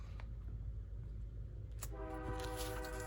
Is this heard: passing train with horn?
yes